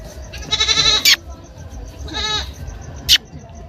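A tethered goat in an Indian village bleats loudly and nearby, two drawn-out quavering calls a second apart followed by a short sharp cry, with faint background noise between.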